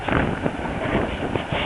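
Wind buffets a microphone while sailing a small boat on the Venice Canal in the Everglades, with gusty, rumbling bursts that rise and fall, close and fairly loud.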